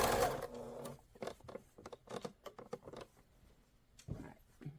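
Sewing machine stitches quilting fabric in short bursts of rapid mechanical whirring and clatter, close up and fairly quiet, with brief pauses between runs.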